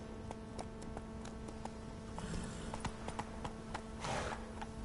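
Hoofbeats of a horse galloping in The Witcher 3 video game, a steady clip-clop rhythm running throughout at moderate volume with faint game ambience and no talk.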